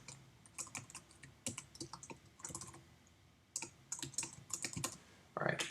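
Typing on a computer keyboard comes as bursts of quick, close clicks and key taps with brief pauses between runs, quiet and alone.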